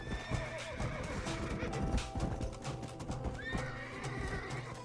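Horse neighs and clip-clopping hooves in the Western video game Red Dead Redemption, a steady run of hoofbeats with whinnies rising over it, loud and close against game ambience.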